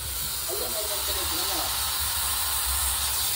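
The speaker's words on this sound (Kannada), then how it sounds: "ಏನಪ್ಪೇ ಸುರ್ರ ಅಂತಿತ್ತ ಕುಕ್ಕರು?" A kitchen pressure cooker hisses steadily with escaping steam before its whistle, a continuous broad hiss under faint background voices.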